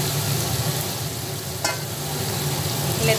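Marinated chicken and spices stir-fried in a pan for chicken korma: a steady sizzle runs throughout, with sharper scraping stirs around the middle and at the end.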